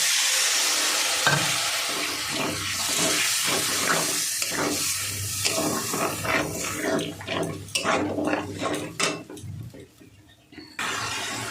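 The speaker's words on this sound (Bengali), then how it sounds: "জল দিয়ে মশলাটাকে কষাবো ভালো করে" Spice masala sizzling and frying in a pan with added water while being stirred for a pangas fish curry, a steady loud hiss with stirring scrapes throughout, briefly quieter near the end.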